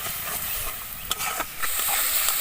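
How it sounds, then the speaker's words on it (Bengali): Spice paste for chole paneer masala sizzles steadily in a pan with a dense hiss, broken by a few sharp stirring scrapes, and no one speaks. "ভালোভাবে আমি মশলাটা কষিয়ে নেব যেন মশলা থেকে কাঁচা গন্ধ চলে যায়"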